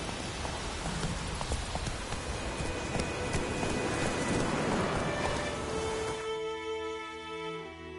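Hooves of the horse Roach clip-clop steadily in The Witcher 3, mixed with a rain-like wash of ambience, and the hoofbeats fade into quieter, tonal background noise near the end.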